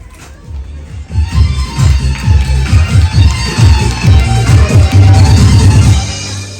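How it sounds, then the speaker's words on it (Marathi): An audience at a Marathi comedy stage show breaks into loud, sustained clapping after a brief quiet start, rhythmic and dense, holding strong before tapering off at the end. "सर्वांना विनंती जोरदार टाळ्या वाजू द्या सर्वांच्या"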